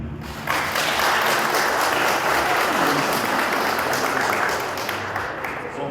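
An audience at a celebration honoring a 103-year-old man bursts into dense, sustained applause. It swells in after a brief quieter moment and holds steady for several seconds before tapering slightly.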